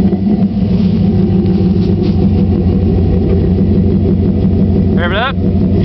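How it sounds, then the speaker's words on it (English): A 2006 Chevrolet Silverado SS V8 fitted with Pacesetter headers, loud and close, rumbling steadily with the throttle blipped, and a brief squeal near the end. "Rev it up."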